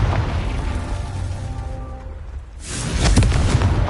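Confringo fire spell in the Hogwarts Legacy video game, a loud close rumbling blast that builds, drops away briefly, then bursts into a second crackling explosion near the end.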